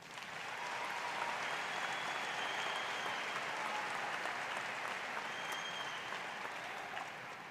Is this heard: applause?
yes